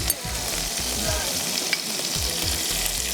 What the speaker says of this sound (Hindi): हमने बटर में गार्लिक डाला। उसके बाद हमने इसके अंदर चॉप बीन्स, ये चॉप्ड बीन्स डाले।